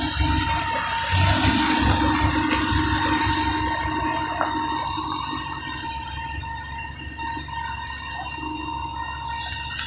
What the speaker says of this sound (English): I wouldn't need a generator that big, but I love how quiet it is.